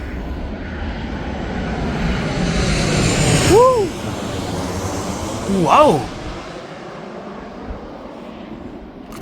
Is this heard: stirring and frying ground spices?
no